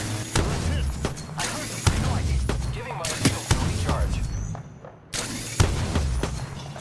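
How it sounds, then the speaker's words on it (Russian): Bursts of gunfire in the Apex Legends battle royale shooter on PS4, sharp repeated shots and thuds in clusters across the clip, loud and close, with players talking over the action. "Да я вижу, я стреляю по нему."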